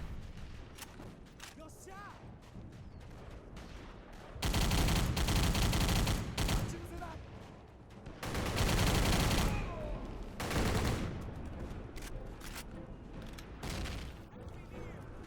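Automatic weapon gunfire in the trenches of a World War II video game, heard as loud bursts of rapid fire in two long stretches with quieter shots and game ambience between them.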